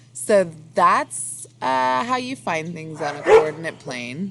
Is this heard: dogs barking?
yes